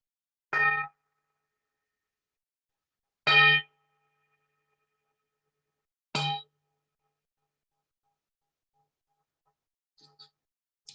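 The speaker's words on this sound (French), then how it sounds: "Vous écoutez le son du vol tibétain qui s'estompe." Three separate metallic strikes of a Tibetan singing bowl, each a bright ringing tone that decays over a fraction of a second, spaced about three seconds apart. Quiet room, no talking.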